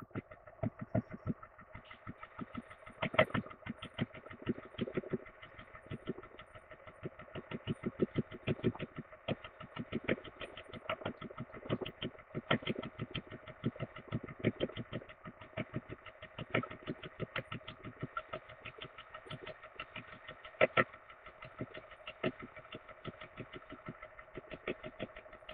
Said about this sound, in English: So right now, this pump is working about as hard as it can.